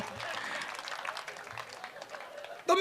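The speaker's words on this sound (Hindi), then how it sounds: "ताली बजाइए, मेरे मित्र के लिए ताली बजाइए।" Audience applause at a live Hindi comedy performance, a steady broad wash of clapping from a crowd throughout, fairly distant and even, with a brief louder burst at the very end.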